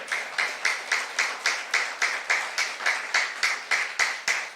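During a Saturday youth worship service, a church congregation claps in unison. About seventeen sharp, regular claps land at an even, steady tempo, with no talking over them.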